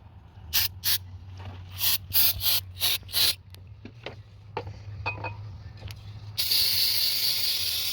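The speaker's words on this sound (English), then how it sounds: "carb cleaner to clean this" Short, sharp hissing bursts of carb cleaner spray hit a car air tube up close, several quick blasts in a row, then a longer continuous spray at the end.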